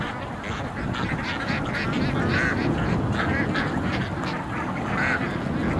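A large flock of domestic ducks pours out of a pen in a strong south wind, a dense continuous chorus of quacking and honking calls over steady wind rumble, no talking.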